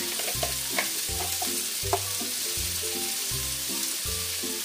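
Pork sizzles steadily in a pan while being sautéed for pochero, the frying hiss running throughout and broken by a rhythmic series of low scraping stirs, close and alone with no voices.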